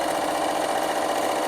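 Bernina sewing machine stitching down three layers of patchwork fabric for a storage roll, a steady, close whirring hum that runs without pause and with no talk.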